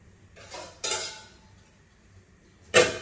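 A metal lid set down on a pot of simmering vegetable soup on a home stove, giving a couple of soft clinks followed by one sharp, close clatter, with no talking.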